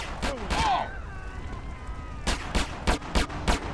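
Gunfire in GTA San Andreas comes as sharp cracking shots, two early and then a quick run of four more, mixed with brief game voice sounds in between.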